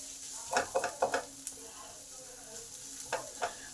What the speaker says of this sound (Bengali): মশলাগুলো কাঁচা গন্ধটা যতক্ষণ না যাচ্ছে ততক্ষণ পর্যন্ত মশলাকে কষতে হবে কম করে পাঁচ মিনিট